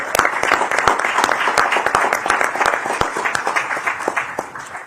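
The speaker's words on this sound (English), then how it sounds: "A round of applause" Audience applause at a civil rights and labor gathering in Boston as a speaker is introduced, dense rapid clapping from a sizeable crowd, loud and sustained with sharp individual claps standing out.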